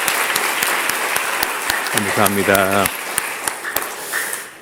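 A church congregation claps for the youth worship team, with scattered crisp handclaps throughout and someone briefly speaking in the middle.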